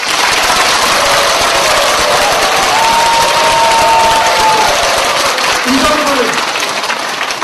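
A crowd at a saju myeongrihak lecture held at NongHyup headquarters claps loudly and continuously, a dense roar of hands with a faint tonal hum running underneath.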